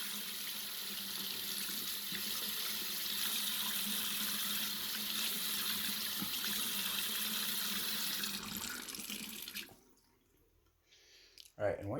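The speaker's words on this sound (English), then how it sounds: "just gonna give it a little rinse. I like to use lukewarm water." Lukewarm tap water runs steadily into a sink to rinse a resin 3D print from an AnyCubic Photon, a broad constant hiss that lasts about ten seconds before cutting off to near quiet.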